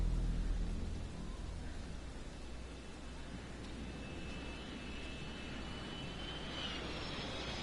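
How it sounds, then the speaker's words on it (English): An airplane flies overhead in a police-investigation video game, a broad steady engine roar with a faint rising whine, constant and fairly distant throughout. "Another airplane."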